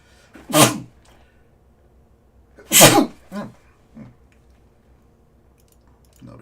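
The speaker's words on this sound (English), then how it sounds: "A little bit of sneeze in here." Two sharp, loud sneezes a couple of seconds apart, each followed by softer sniffs and breathy after-sounds, close to the microphone in an otherwise quiet room.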